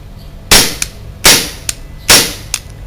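Three sharp shots from a WE Glock airsoft pistol with a CO2 magazine, spaced about a second apart, each a loud crack followed by a quick mechanical clack, close up.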